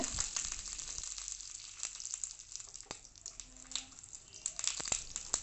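Hot oil sizzles and crackles steadily as a tempering of chillies and curry leaves cooks, with sharp pops and spatters scattered throughout at close range.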